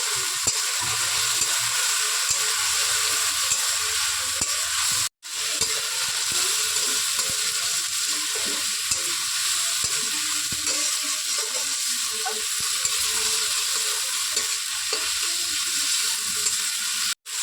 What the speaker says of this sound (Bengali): মশলাটা দিয়ে ভালো করে কষিয়ে নেব লতিটাকে